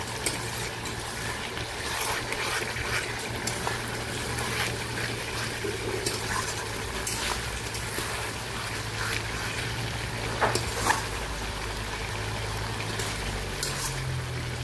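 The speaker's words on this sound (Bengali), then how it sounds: "মাংসটা এই যে কষানো চলছে।" Meat being braised (koshano) in a pan with potatoes in a village kitchen, a steady sizzling, bubbling wash with a low constant hum beneath and occasional small clicks, no voices.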